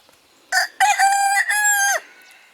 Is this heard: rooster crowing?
yes